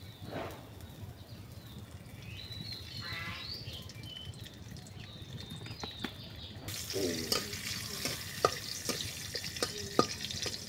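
Onions frying in oil make a faint, low sizzle that grows louder and brighter partway through, punctuated by scattered stirring clatters and clicks.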